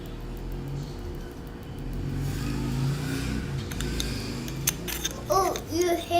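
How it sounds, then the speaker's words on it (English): A motor vehicle engine rumbles and swells as it passes nearby, followed by a child's babbling near the end. "That sounded like a motorcycle, huh? That loud."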